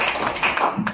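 A short, dense burst of audience clapping greets a doctor at a Jatav community district meeting in Shamshabad, a crowd applauding together at close range.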